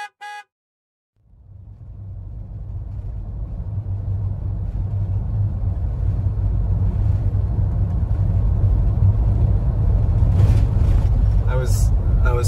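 A car cruising along a road in New Zealand, with a steady low engine and road rumble that builds after a brief silent start and holds continuously and fairly loud to the end.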